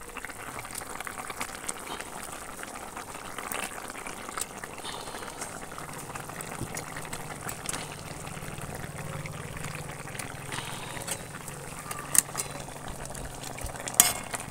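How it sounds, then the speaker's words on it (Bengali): Fish curry with lentil vadi and kohlrabi boils steadily in a pot, a continuous close bubbling hiss with light scrapes of stirring and a couple of sharper utensil clinks near the end; no one speaks. "ঝোলটা একদম খুব ভালো করেই ফুটে গেছে।"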